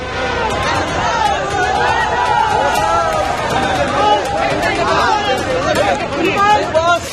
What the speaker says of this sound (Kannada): ಕೋರ್ಟ್ ಹೊರಗೆ ಒಟ್ಟಿಗೆ ಕಾಣಿಸಿಕೊಂಡ ದರ್ಶನ್, ಪವಿತ್ರ ಗೌಡ ನೋಡಿ ಅಭಿಮಾನಿಗಳು ಜೈಕಾರ ಹಾಕಿದ್ರು